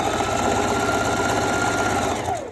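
A sewing machine runs a continuous stitching pass on stretchy swimsuit fabric, steady and close with a fast mechanical rattle, slowing and trailing off at the very end.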